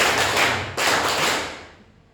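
Two sharp, reverberant hand claps, the second about a second after the first, each trailing off slowly in a hard-walled room.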